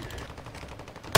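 A short, muffled burst of rapid gunfire in a shooter video game, fairly faint and continuous, ending in a sudden loud hit.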